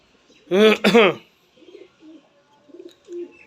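A voice speaks briefly, then soft low cooing from a Mian Nazeer bloodline pigeon follows in several short, quiet phrases nearby.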